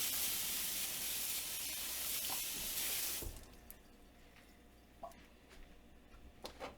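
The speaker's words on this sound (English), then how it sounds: "I'm going to rinse off my knife." A knife is rinsed under a kitchen sink tap. Water hisses and splashes steadily for about three seconds, then stops, leaving only a few small clinks and taps nearby.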